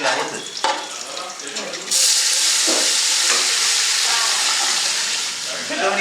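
Tomato goes into a hot pan for fish curry, and the frying jumps from a moderate crackle to a loud, sustained close sizzle with small stirring knocks.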